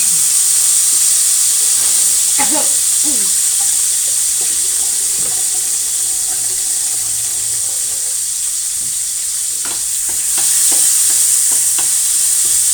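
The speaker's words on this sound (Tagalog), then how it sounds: "Ginisang sardinas." Sardines sautéing in a pan for a simple Filipino dish: a loud, continuous hiss and sizzle throughout, with occasional scrapes of stirring and faint voices in the background.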